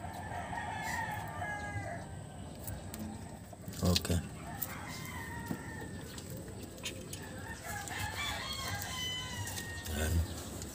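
A rooster crows somewhere nearby, the cock-a-doodle-doo rising over the ambient noise of a yard where a Suzuki Multicub F5A engine is being worked on, while a person speaks briefly.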